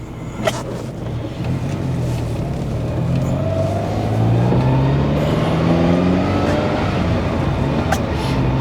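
A Peugeot 308 engine warms up from cold in a workshop, idling with a steady low drone before the revs climb in several rising sweeps, loud and close throughout.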